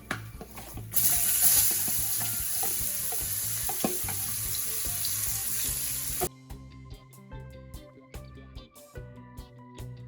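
Onion frying in a pot for eggplant curry, a loud steady sizzle for several seconds that cuts off abruptly, followed by quieter clinks and knocks.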